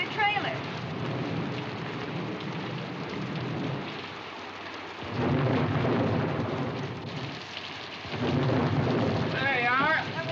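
A thunderstorm rolls over an outdoor show setting in a 1941 film: heavy rain pours steadily while loud rumbles of thunder swell and fade, with faint voices underneath.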